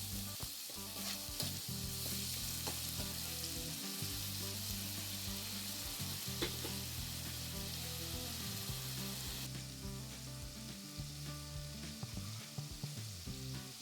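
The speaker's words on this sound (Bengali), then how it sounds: "এবার আমি মশলাগুলোকে ভালো করে একটু ভেজে নিচ্ছি।" Spices and ginger paste sizzle steadily in a pan for prawn malai curry, with a constant loud frying hiss and intermittent scraping as the mixture is stirred.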